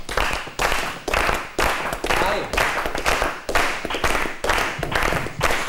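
Rhythmic hand clapping (palmas) for a rumba: loud, sharp claps repeat at an even pace, about two per second, close and dominant with little else behind them.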